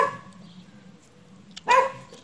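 A small dog gives a short yip at the start, then a louder close bark near the end, with quiet room sound between them.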